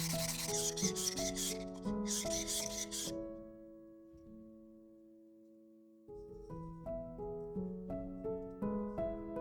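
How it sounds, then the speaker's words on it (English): Sandpaper is rubbed over a 3D-printed resin lampshade to remove layer lines, a quick run of rhythmic scratchy strokes early on, with background music playing throughout. "which need to be sanded down."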